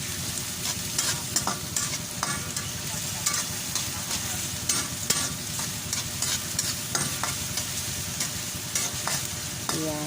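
Ground pork and chopped white onion stirred and frying in a pan, with steady sizzling and repeated scraping strokes of a utensil throughout, close and fairly loud.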